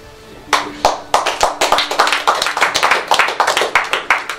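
An audience at a centenary celebration for a pastor claps in a quick, uneven burst of sharp hand claps, close and lively, with a faint steady tone underneath.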